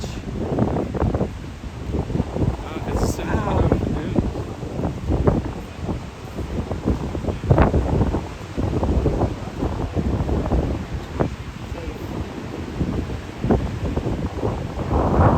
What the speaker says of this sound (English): Look at how big those waves are.